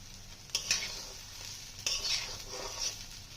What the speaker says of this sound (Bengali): আমাদের চালগুলো সব ভাজা হয়ে গেছে সুন্দর